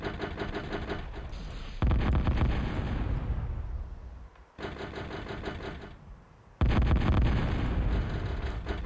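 Bomb blasts in a video game hit in two loud bursts. Each detonation's heavy, rumbling roar sustains and slowly decays before the next one strikes.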